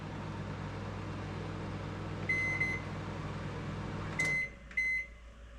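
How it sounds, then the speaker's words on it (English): A microwave oven runs with a steady low hum and fan whir, then gives a few short electronic beeps, followed by a door clunk as the hum cuts out and more beeps sound close by. "it's running in the microwave"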